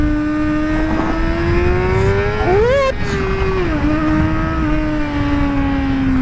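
A loud engine on a track-style motorcycle with an SC Project exhaust holds a steady tone, then rises sharply in a quick rev before settling back, close and alone.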